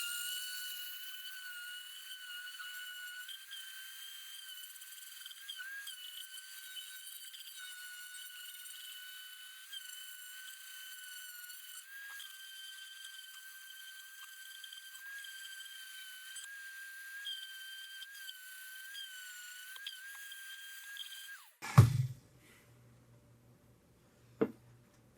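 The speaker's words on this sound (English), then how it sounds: "now I'm going to sand down the neck and sand everything off the headstock" An electric sander with coarse grit works down the neck and headstock of an Epiphone Les Paul guitar, a steady high-pitched whine holding for about twenty seconds before stopping abruptly, followed by a thump and a short knock.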